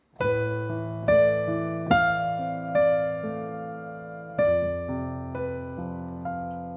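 Piano playing a slow melody of unstable, tense tones, seven struck notes and chords spaced about a second apart, each ringing and decaying, close and clear with no talking.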